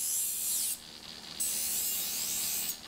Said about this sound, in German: An unterschiedlich kleinen Steinen pliestet der Schleifer gründlich und sorgfältig immer wieder die Klingenteile